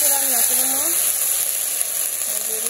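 Luchi frying in hot oil in a village kitchen, a steady close sizzle and hiss that continues for the whole stretch, with faint tonal sounds above it.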